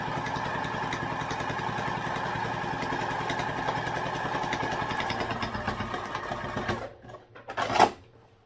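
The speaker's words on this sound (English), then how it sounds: "we'll do a 1/4 inch basting stitch" A sewing machine runs a quarter-inch basting stitch in a fast, even mechanical whir for about seven seconds, then stops, followed by a brief louder clack or rustle close by.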